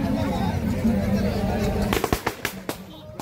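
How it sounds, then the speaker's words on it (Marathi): Firecrackers burst during a Ganesh immersion procession in Parle, with a busy crowd murmur at first and then a run of sharp, loud bangs and cracks in the second half. "फटाक्यांचा पण आवाज येतोय खूप"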